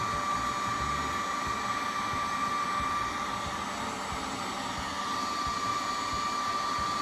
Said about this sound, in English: you take a heat gun or something like that, and you turn it on, and you go around it and heat it up